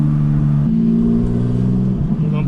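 Turbocharged Nissan Altima engine held at light partial throttle with a wastegate problem, a loud, close, steady mid-pitched drone whose tone shifts slightly partway through, running without pause.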